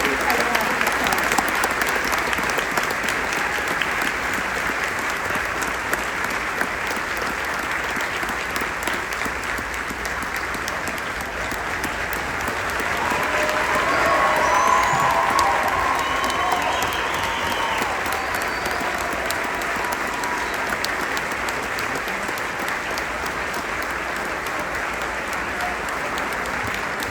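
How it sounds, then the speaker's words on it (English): Sustained audience applause at the Sunburst Youth Academy graduation ceremony in Los Alamitos, California, a steady dense roar of many hands that swells slightly midway and carries on for the whole stretch. "Please stand for a round of applause."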